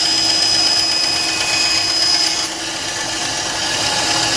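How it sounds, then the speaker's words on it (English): A power planer smooths cut strips of pine wood, giving a loud, steady broadband whir with a high whine that shifts slightly partway through and runs continuously without pause. "taking the strips of pine wood that I just cut using the table saw. I plane them."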